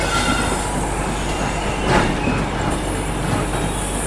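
A train hauled by a WAG7 locomotive at Palakkad Junction station, with a steady loud rumble of railcars and wheels throughout and a faint squeal near the middle, no voices.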